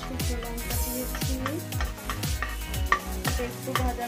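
Panch phoron spices and a dried chili sizzle and crackle in hot oil in a pan, a steady close frying hiss with scattered pops and stirring scrapes, no talking.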